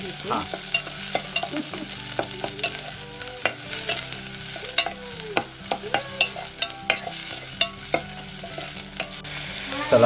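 Onion and whole chili are sautéed in a pan, a close sizzle punctuated by frequent sharp spatula scrapes and taps that grow busier toward the end, with no speech.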